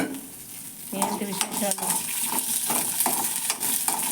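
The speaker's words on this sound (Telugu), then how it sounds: "ఇక పచ్చిమిరకాయలు వేగిపోయినాయి," Green chillies fry in a pan while a spoon stirs them, giving a steady close sizzle with scraping strokes and light clinks. A person speaks briefly over the cooking.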